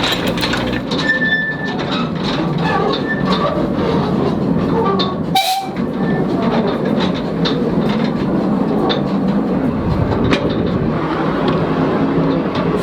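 A mine railway train rumbles steadily along rails, loud and close, with rattling and clanking throughout and a brief sharp burst partway through, at the Laxey Mine Railway on the Isle of Man.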